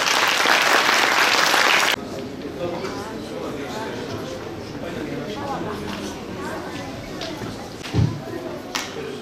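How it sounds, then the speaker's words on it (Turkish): A crowd at a Şanlıurfa municipal event for Quran course students bursts into loud, dense applause for about two seconds. It then cuts off sharply, giving way to quieter murmuring and talk. "alkışlarınızla sahneye davet ediyoruz."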